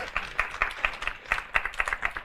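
An audience claps for a lecturer at the close of a coding class session, a brief burst of scattered, irregular hand claps from a small group, fairly quiet and close.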